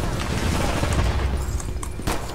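Gunfire in the shooter game Brink, a dense, loud stretch of rapid shots and booming bursts packed together with sharp cracks standing out toward the end.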